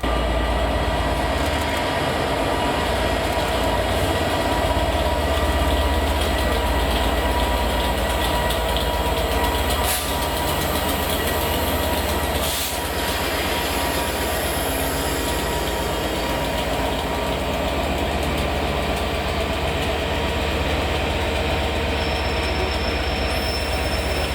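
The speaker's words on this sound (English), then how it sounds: "employing DB 67007, seen on its second day up here, on arrival to Dumbarton Central with 1Z81" DB class 67 locomotive 67007 hauling a train into Dumbarton Central station in Scotland, a loud, steady, close rumble of engine and rolling stock lasting throughout, with wheel noise and faint high squeals near the end.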